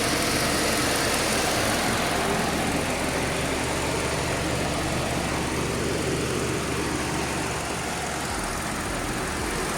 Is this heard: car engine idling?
yes